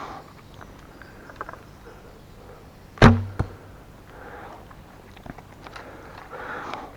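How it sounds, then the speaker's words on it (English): A single arrow is loosed from a Black Hunter recurve bow, giving one sharp, loud snap and thwack near the middle, followed by a quick secondary knock over quiet outdoor background noise. "It's more about how the arrows are flying out the bow"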